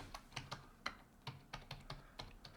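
Quiet keystrokes on a computer keyboard while typing into a chat, an irregular series of soft clicks alone with no talk.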